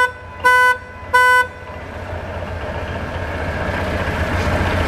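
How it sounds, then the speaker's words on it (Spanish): Two short, loud honks from the horn of a Komatsu C-50 forklift, followed by the low steady hum of the idling machine. "Arriba de la llave de encendido tenemos un botón que es el del claxon."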